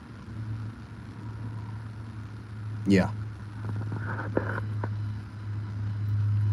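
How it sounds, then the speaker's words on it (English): Trucks passing outside send a low, steady rumble through a quiet room, with a few brief louder swells and a short spoken word from a man. "Hear that? These stupid trucks."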